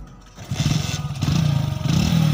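Motorcycle engine idling and running steadily during a beginner's riding lesson, a low throbbing rumble that rises slightly as the bike moves off, close and fairly loud.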